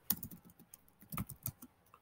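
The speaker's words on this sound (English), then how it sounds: "As soon as you get done typing this, go ahead and sudo" Typing a Linux terminal command on a Lenovo IdeaPad laptop keyboard: quick irregular clicky keystrokes in short bursts, close but quiet, with no talking.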